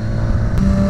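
A BMW S1000XR motorcycle loaded with full panniers revs through a Pyrenees mountain route in a steady, close engine drone with a brief rise in pitch partway through.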